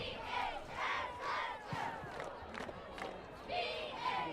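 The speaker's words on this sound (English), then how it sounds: "Pretty good crowd here on this homecoming night." Crowd noise at a high school homecoming football game on a chilly, windless night, a steady roar of many voices with swelling cheers and shouts rising and falling.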